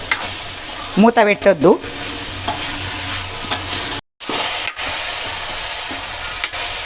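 Okra being stirred in a frying pan with soaked toor dal, a steady sizzle and scraping under the stirring, with a brief spoken phrase early on and a short dropout midway.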